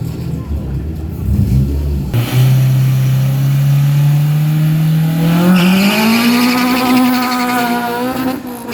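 A drag racing car launching without a burnout on a 402 m test run, engine roaring loud and close with a rising, sustained pitch through the gears as it accelerates away.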